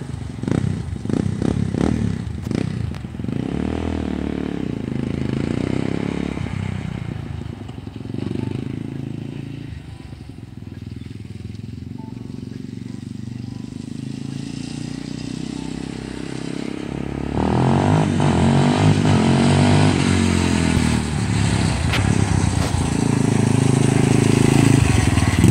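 A Yamaha Warrior 350 quad, jetted and fitted with a filter and slip-on exhaust, drives past with a steady engine drone that fades a little, then grows louder and rougher near the end; no one speaks.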